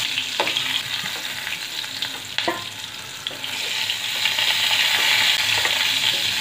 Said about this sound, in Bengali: আমি ভেজে নিই পটলগুলো